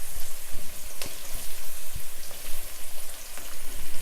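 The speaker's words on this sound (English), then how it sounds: "stir fry the broccoli" Broccoli stir frying in a pan for a vegan dish, a steady crackling sizzle with scattered sharp pops and the occasional scrape of stirring.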